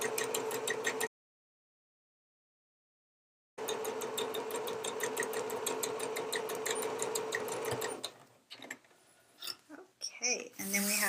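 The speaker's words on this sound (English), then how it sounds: "stitch down the sides across the base and back up the other side, reinforcing at the beginning and the end with the back stitch" A sewing machine runs in rapid even bursts while stitching the side and base seams of a low-profile hip bag, pausing briefly in silence, then stopping as a voice speaks over small handling noises.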